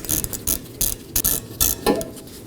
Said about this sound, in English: Now for our T30 screw, I'll be using a T30 Torx bit.